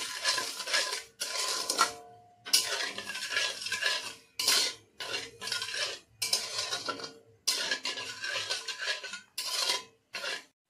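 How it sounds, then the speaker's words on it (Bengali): A metal spoon stirs sugar and water in a pot for sugar syrup, scraping and clinking against the sides in repeated bursts separated by short pauses. The sound is close and fairly loud, with no talking. "এবার আমি চিনিটা গলিয়ে নেব।"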